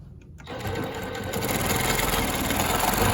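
A longarm quilting machine stitches with rulers, starting after a brief quiet and building into a fast, steady mechanical whir and chatter that carries on alone.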